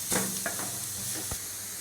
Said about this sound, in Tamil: ஒரு 2 நிமிஷம் இந்த மாதிரி எண்ணெயில் வதக்கிட்டே இருங்க.